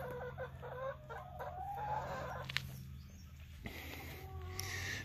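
Backyard chickens and a rooster cluck in repeated short bursts at moderate distance, with a faint low hum running steadily beneath and a few scattered sharp sounds.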